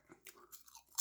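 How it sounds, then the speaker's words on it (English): Faint, close crunching of onion ring flavored snack chips being chewed, a few quick bites within a second. "I keep going back to the chips and eating when I should be talking."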